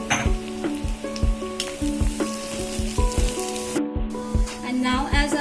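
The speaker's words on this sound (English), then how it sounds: "and fry it till golden brown" Poppy seeds, cashew nuts and desiccated coconut fry in a pan until golden brown, giving a steady close sizzle with regular stirring scrapes throughout and a faint tonal hum underneath.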